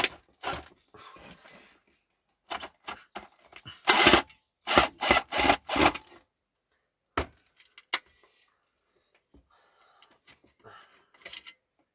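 A badly worn screw being unscrewed during a tidy-up, with scraping, grinding bursts of the tool biting and slipping, loudest in a cluster of rasping strokes midway, then sparse faint scratches near and alone.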